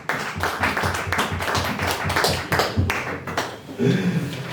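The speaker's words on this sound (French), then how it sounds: "Applaudissons pour le Seigneur." A church congregation at a Sunday worship service claps in a brisk, rhythmic beat, the applause filling the room with a few voices mixed faintly underneath.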